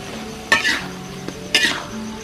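Food stirred in a cooking pan in a village kitchen, with two distinct scraping, sizzling strokes about a second apart, close and moderately loud, and no talk.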